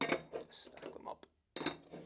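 Metal tools stacked on top of one another in a bunker corner, giving a few close clinks and clanks of metal on metal, spaced out over about two seconds, with a short silence before a final clatter.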